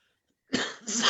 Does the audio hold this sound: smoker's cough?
yes